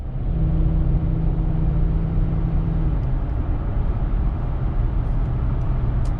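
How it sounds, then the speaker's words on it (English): A Ford Crown Victoria P71 police-package sedan drives on a street with a steady, loud low rumble of engine and road noise, a faint tone in the first half, and no talking. "So let's take it for a drive"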